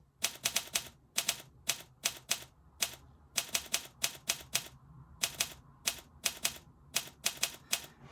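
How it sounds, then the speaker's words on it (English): A typewriter sound effect plays for a JavaScript on-screen typing animation. Crisp, close key clacks come in quick irregular bursts separated by short pauses. "now you can see we get that kind of typewriter effect"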